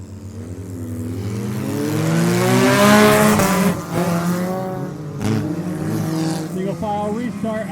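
Race cars at a single-file restart in The Million race, engines roaring loud and rising in pitch as they accelerate, under a voice that sounds like commentary.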